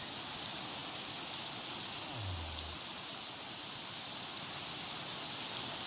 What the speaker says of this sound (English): Maybe I'm safe with just the regular kind of rain.